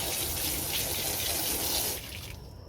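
Water runs steadily from a tap as chicken water containers are rinsed out on a homestead, a close, continuous gushing stream that cuts back sharply near the end.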